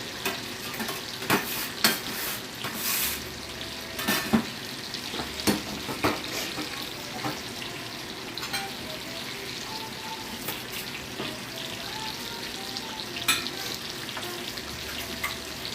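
Bacon sizzles and fries in a pan while a utensil stirs and scrapes it in repeated clattering strokes, the sizzle constant and moderately close, with no talking.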